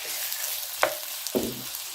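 Shrimp dropped into hot oil with garlic in a pan, giving two short sizzling bursts a moment apart over a faint steady frying hiss, close and alone.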